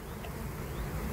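Honeybees buzz steadily in an open hive during an inspection, a dense close-up hum with no voices over it.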